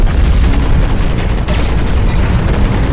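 Gunfire from the mech combat game Hawken rattles as a dense, continuous barrage of heavy booming shots and impacts, loud and close, with no pauses across the stretch.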